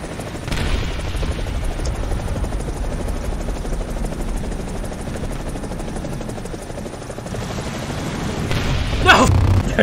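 A helicopter's rotor thrums steadily and loudly throughout in War Thunder, an MD 500 Little Bird, with a sharp boom near the end suggesting gunfire or an explosion.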